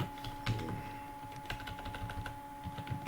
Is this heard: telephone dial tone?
no